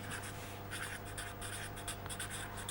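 A lecturer writes on a board during a physics lecture, with continuous scratchy strokes coming in quick bursts and short pauses over a low steady hum. No voices.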